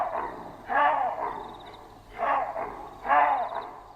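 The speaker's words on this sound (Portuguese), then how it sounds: "Esta espécie de macaco é associada ao cachorro porque emite um som" A monkey in the Mozambican bush gives three hoarse, dog-like barking calls, each roughly half a second long and spaced about a second apart, moderately close against a quiet outdoor background.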